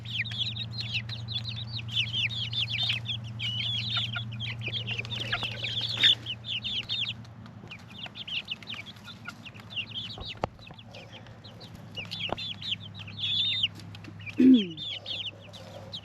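Chicks outdoors cluck and peep in a busy, overlapping chorus over a steady low hum, with a brief louder squawk near the end.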